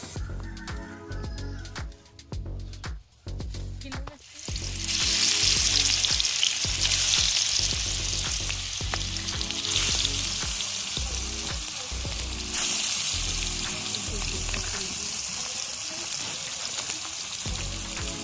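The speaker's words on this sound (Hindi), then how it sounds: "कढ़ाई रे अल्प तेल निया गला, माछ को भजा जीवो।" Fish frying in a little oil in a kadhai over a village stove, a steady loud sizzle that starts after a few seconds of quieter handling noise and carries on unbroken.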